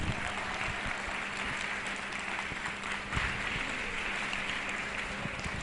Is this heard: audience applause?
yes